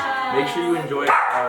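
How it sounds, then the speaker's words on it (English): A dog barks and yips in the background of a room while a person keeps talking over it, the barks short and moderately loud beneath the voice. "Oh, that's our dog in the background."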